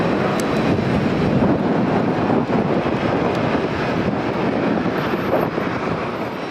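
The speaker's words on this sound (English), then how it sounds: "Ryanair cleared the runway just in time for the Emirates A380 to make its first approach" An Emirates Airbus A380 airliner on approach to Birmingham airport, heard as a steady, loud broadband roar with wind buffeting across the microphone throughout.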